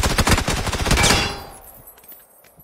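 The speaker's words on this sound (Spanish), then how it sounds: "¡Y tiene escopeta!" A rapid burst of loud gunfire in a video game, a shotgun among the shots, fires close and fast for about a second before it cuts off and fades into a quiet tail.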